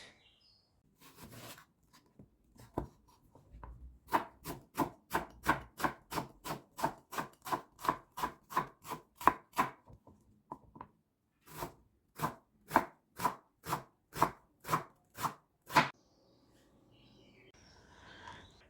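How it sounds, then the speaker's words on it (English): Knife finely dicing two medium onions on a chopping board, a long run of sharp, evenly spaced close chops, pausing briefly midway before a second quick burst. "Two medium onions, finely diced."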